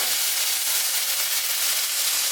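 Lean ground turkey sizzles and crackles in a hot pan, a steady, close, bright hiss that holds evenly throughout with no voices.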